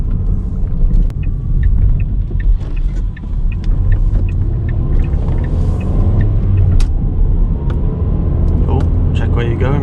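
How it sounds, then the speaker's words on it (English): Ford Fiesta MK6 car driving through a U-turn on a Cornwall road, steady loud engine and road rumble close up throughout, with a person talking over it. "let's do a quick U-turn here"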